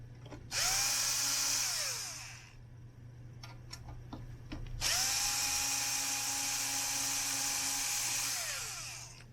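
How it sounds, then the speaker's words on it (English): Power screwdriver whirring as it backs out two screws on a Concord 220 tube reel-to-reel deck, two steady high-pitched runs of a couple of seconds each with a brief pause and faint ticks between them. "And then I take off this two screws here."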